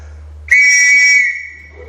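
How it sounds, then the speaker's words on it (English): A replica First World War whistle gives one loud, shrill blast lasting about a second, close up, then trails off into quiet. "This is a replica whistle from the First World War,"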